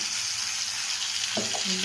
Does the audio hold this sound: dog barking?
no